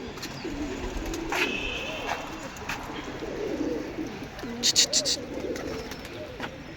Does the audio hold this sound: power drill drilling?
no